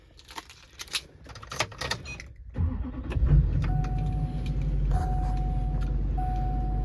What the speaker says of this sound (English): We can go ahead and turn the vehicle on.